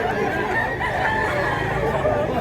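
At a chicken market in Mantalungon, Cebu, roosters crow and cluck amid a dense, busy murmur of crowd chatter and background noise.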